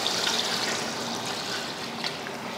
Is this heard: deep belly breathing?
no